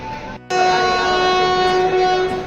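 A long, steady, loud train horn blares continuously after a brief break, a sustained tonal blast close by, as a train departs from Vadodara.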